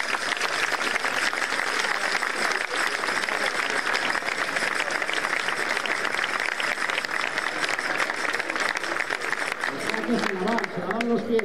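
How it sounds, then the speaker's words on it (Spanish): An audience at a folk dance group performance in Araúzo de Miel, Burgos, applauds a group member with dense, sustained clapping that holds at even loudness throughout, with some crowd voices near the end. "Un aplauso para Nati."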